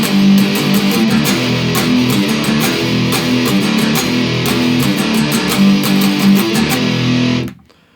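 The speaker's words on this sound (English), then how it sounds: "I'm using a Fender Strat through a fuzz pedal to get that kind of really gritty kind of sound." Heavy, gritty riff on a Fender Stratocaster electric guitar run through a fuzz pedal in drop D tuning, played loud and steady with rhythmic chugging for about seven seconds before cutting off abruptly, with no talk over it.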